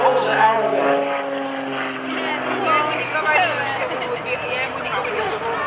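An aerobatic propeller airplane tumbles and spins at an airshow over Greenwood Lake. The engine drones and whines with shifting pitch throughout, and an announcer talks over it.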